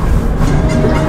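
Train 12821, the Shalimar–Puri Dhauli Express, running with a loud, close, continuous rumble and a droning mechanical hum, heavy and steady for the whole short stretch.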